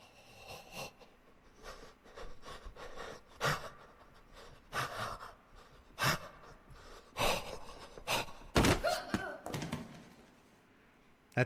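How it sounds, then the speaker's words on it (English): The breathing sound effect from the Silent Hill video game: a run of sharp, irregular breaths, gasps and pants that come in short bursts, close and fairly loud, with quiet gaps between them. "That's still the same breathing effect."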